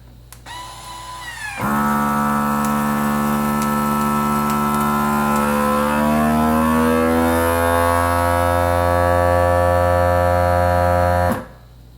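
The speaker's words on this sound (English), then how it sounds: "we'll go ahead and vacuum seal it" A vacuum sealer sealing a bag of ground beef: a loud, steady mechanical drone with a strong hum starts abruptly, runs for about ten seconds while the pitch slowly shifts, then cuts off sharply.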